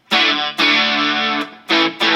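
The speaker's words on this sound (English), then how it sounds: "overdrive, distortion," Enya Inspire smart electric guitar with overdrive distortion through its built-in speaker, loud and sustained, played as a few strummed chords with short breaks between them.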